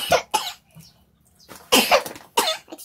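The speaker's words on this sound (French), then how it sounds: "Naturellement, comme je suis dehors, je tousse." Several close, rough coughs in bursts, two quick ones, then a pause, then two heavier ones.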